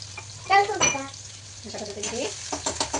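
Cumin, onion, chili and garlic frying in a pan while being stirred, with soft sizzling and the scrape and clink of a utensil against the pan, joined by brief speech.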